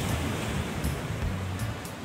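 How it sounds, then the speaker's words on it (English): Sea waves break against rocks beside a pier in Grenada, a continuous loud rush of surf with low rumbling surges and faint wind, heard close without any voices. "You might not be able to see it, but you can hear the waves."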